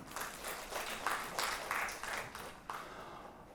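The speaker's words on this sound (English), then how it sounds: "Let's give her a clap." Applause from a classroom audience in a university English seminar, fairly faint and distant, with individual claps bunching into soft bursts over a few seconds.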